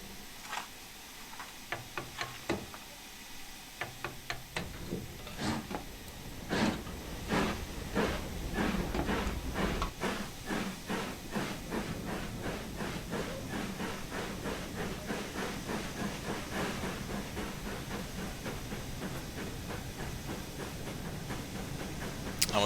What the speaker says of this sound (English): the moment I put the reverser to backwards, the train started moving.